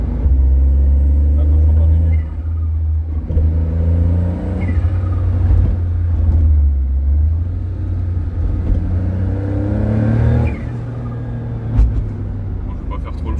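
A new coupé's engine rumbles low and steady from inside the cabin while driving, with gear-shift rises and falls in pitch, under someone talking.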